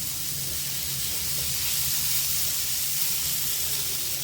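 Marinated paneer tikka roasting in a hot pan, giving a steady, loud broadband sizzle and hiss that holds evenly for a few seconds with no voices.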